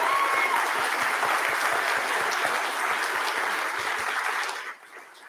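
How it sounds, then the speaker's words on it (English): An audience at the 2021 Writers & Illustrators of the Future awards ceremony applauds in a dense, steady wash of clapping that carries on for several seconds and then quickly tapers off at the end. "Let's give them a round of applause."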